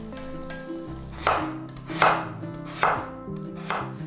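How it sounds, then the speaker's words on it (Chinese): Knife chopping three peeled potatoes into small pieces on a cutting board for potato scallion pancakes, with four loud, evenly spaced chops over a soft background, no talking. "接下来把3个土豆去皮洗干净，切小块"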